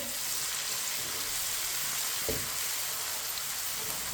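Crushed ginger and garlic fry in a pan for a winter peas and carrot dish, with a soft continuous sizzle and one brief knock partway through.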